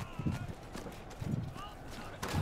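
Horse hooves gallop in a guild territory-war video game, giving a steady, rhythmic run of low, thudding beats under loud voices talking over them.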